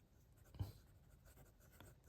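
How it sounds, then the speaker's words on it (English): Majohn P139 fountain pen with a super fine, slightly dry nib writing in reverse on paper, a faint, soft scratch with one brief louder stroke, alone and quiet. "Reverse writing"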